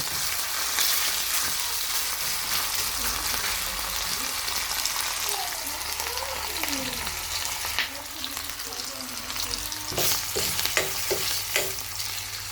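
Food sizzles steadily while being fried and stirred in a pan, a dense close crackle with scraping stir strokes near the end and a faint voice in the background.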